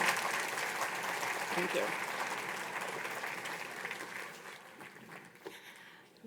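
Audience applause welcoming a speaker to the stage at the Health Matters 2025 talk on healthy longevity, steady dense clapping from a large crowd that tapers toward the end, with a brief spoken thanks near the close.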